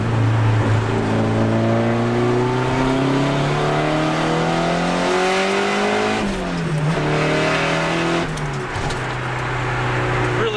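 A Nissan 180SX engine revs up and down repeatedly, rising and falling in pitch with a loud, rough exhaust note, close by and without speech.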